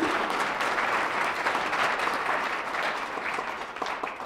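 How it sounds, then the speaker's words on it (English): An audience at a community state-of-the-community event claps for council members, a dense, steady round of applause that slowly thins toward the end. "Give them a little round of applause."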